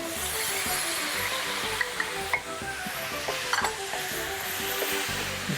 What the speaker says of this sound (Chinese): 那我们酱料先炒一下